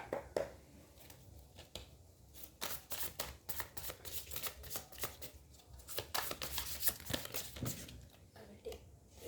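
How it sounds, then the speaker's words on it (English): Tarot cards are shuffled by hand close up, a quiet run of rapid papery riffles and soft slaps in irregular bursts, continuing for several seconds with small pauses between shuffles. "let me pull out some tarot cards for you"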